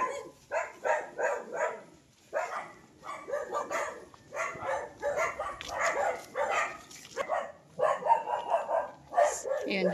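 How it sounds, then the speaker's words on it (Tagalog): Many guard dogs bark at a farm lot, a steady stream of overlapping mid-distance barks and yips in uneven bursts, with voices talking among them. "Hindi lang po kayo makakalapit kasi layo nagbabantay tapos ang daming aso."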